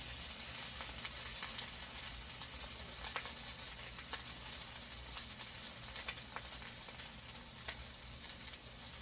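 Filet mignon steak sears in a hot pan with a strong, continuous sizzle and frequent sharp crackling pops, close and fairly loud, with no talking.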